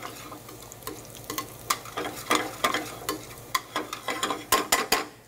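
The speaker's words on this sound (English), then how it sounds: "you don't want to let this garlic cook for more than about 20, 30 seconds, just till it starts to perfume" Minced garlic sizzles in hot oil in a pan for Italian pasta carbonara, a steady close frying hiss broken by repeated sharp clicks and scrapes of stirring, with no talking.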